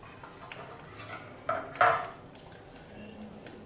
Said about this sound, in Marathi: आपण झाकण काढून घेऊया